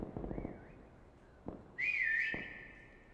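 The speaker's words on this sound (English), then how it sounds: "With the whistle right now." A whistle in the Prop Hunt video game: a faint wavering whistle, then a louder sustained whistled tone with a couple of clicks around it.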